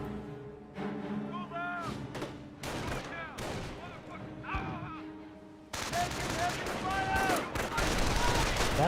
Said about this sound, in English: Mortar does connect with the Volks.